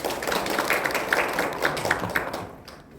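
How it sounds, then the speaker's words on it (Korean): An audience at a Korean humanities lecture and panel discussion applauds steadily for about three seconds, and the clapping fades out at the end. "큰 박수 부탁드립니다."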